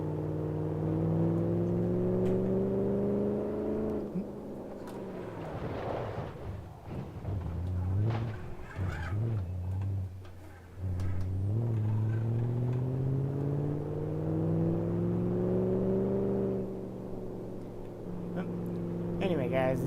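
A manual car's engine in the BeamNG video game revs hard and repeatedly, rising and falling through the gears with a loud, sustained droning tone, briefly dipping and climbing again, with no one talking.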